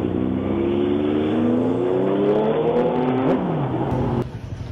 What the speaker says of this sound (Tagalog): Oh, may truck!